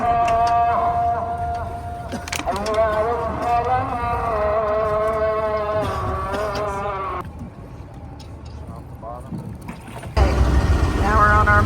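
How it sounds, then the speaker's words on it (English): A motorboat crossing the Nile toward the West Bank at Luxor, its engine giving a continuous loud drone with a tonal hum that drops back midway and swells again at the end. "Now we're on our motorboat going across to the West Bank."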